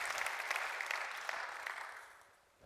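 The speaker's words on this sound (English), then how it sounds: "Big applause for the top jury, Smart Renewable Energy, and then Outstanding Projects." Applause from the audience at an award ceremony for smart renewable energy projects, a soft, even patter of many hands that fades toward the end.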